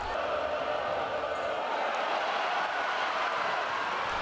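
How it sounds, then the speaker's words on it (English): Loud, steady roar of a basketball crowd cheering throughout after a dunk by Chris Moore in an Auburn men's game against USF, a dense wash of voices with no break. "following this dunk by Chris Moore ignited the crowd"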